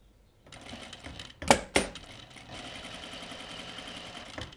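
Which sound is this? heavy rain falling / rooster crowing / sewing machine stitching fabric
sewing machine stitching fabric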